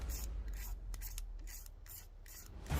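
A ferro rod being scraped at a cold spring night hammock campsite, giving repeated rasping strokes in a steady back-and-forth rhythm, close and fairly loud.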